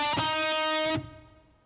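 Short distorted electric guitar lick from the chorus, a bright sustained note with a quick pick attack and a second struck note, ringing alone before fading out.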